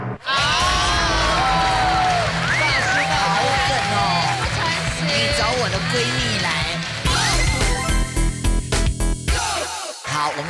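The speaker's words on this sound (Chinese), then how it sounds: "让我们掌声有请" A studio audience at a Taiwanese variety comedy show cheers, whoops and applauds loudly as a comedian is introduced, the dense crowd noise running steadily throughout with a burst of clapping near the end.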